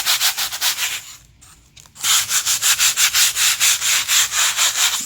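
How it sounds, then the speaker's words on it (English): Rough spots on wood paneling are hand-sanded in quick rhythmic back-and-forth strokes, close and loud, with a short pause before the rubbing resumes at a steady pace. "So I'm just going to sand a couple of the rough areas."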